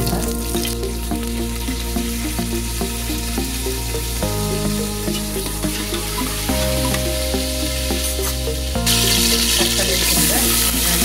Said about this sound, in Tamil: வெங்காயம் பொன்னிறமா வதங்குறதையும்